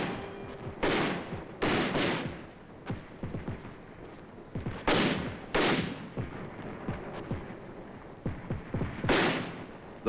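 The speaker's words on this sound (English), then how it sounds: "Mortars blast at the approaching Reds who threaten to cut off the combat teams." Mortar rounds blast out repeatedly in a war setting, several loud booming bursts with echoing tails spaced a few seconds apart and mixed with scattered smaller reports.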